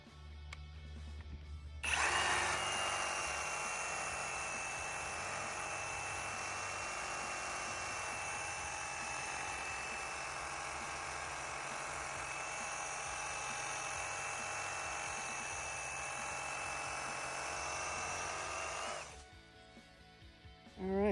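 A Ryobi cordless reciprocating saw cuts steadily for about seventeen seconds, a loud, continuous buzzing whine, with short quieter stretches before it starts and after it stops.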